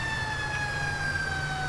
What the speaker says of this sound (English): We do have a cool fire truck siren and fire truck's horns in as well.